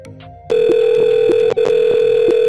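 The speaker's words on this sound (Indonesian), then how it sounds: "kita mau telepon langsung CS misal ya 101 telepon" A call to extension 101 on a PC Best SIP PBX, a loud steady ringback tone that cuts in abruptly, briefly drops, then resumes, with faint clicks before it begins.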